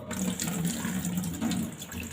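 Water gurgles from a tap into a bathroom drain that has just had salt sprinkled into it, a steady close splashing flow heard alone.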